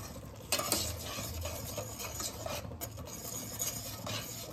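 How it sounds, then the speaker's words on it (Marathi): Chole masala being stirred in a pan over a medium gas flame: a quiet, continuous scraping and rubbing of a spoon against the pan with a soft sizzle underneath, and a few sharper scrapes along the way. "हे मसाले चांगले शिजून बाजूला तेल सुटेपर्यंत ह्याला हलवून घ्यायचं मीडियम गॅसवरती"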